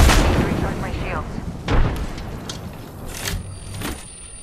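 Gunfire directed at the player in a sci-fi shooter game, sharp bursts and booms cracking out over a busy background of game effects, with voices talking alongside.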